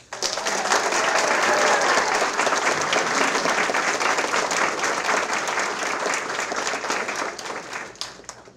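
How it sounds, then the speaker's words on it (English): A roomful of people claps at a Lafourche Parish school board meeting as award winners are honored, a thick, sustained round of applause that swells early and slowly tapers off over several seconds. "how about another round of applause?"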